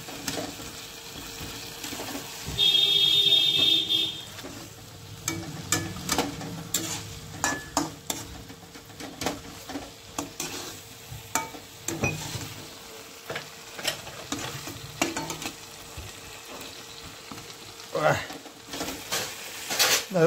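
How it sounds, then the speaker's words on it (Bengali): A goat head sizzles as it fries with spices in a pan. The crackle is steady and close, broken by clattering stirring and a person talking now and then. "অল্প মশলাটা লাগিয়ে দেবো, ফ্রাই হয়ে যাক।"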